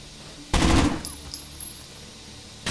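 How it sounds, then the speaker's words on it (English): Gunfire in the video game Rainbow Six Vegas: one loud burst of shots lasting about a third of a second, then quieter game ambience with a couple of faint clicks, and another shot starting at the very end. "He ducked down just as I fired"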